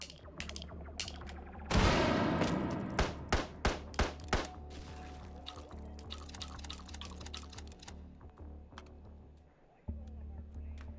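A hand grenade detonates in the VR shooter Hot Dogs, Horseshoes & Hand Grenades, setting off a sharp loud burst followed by a string of rapid thuds and clattering impacts that fade into scattered clicks and knocks.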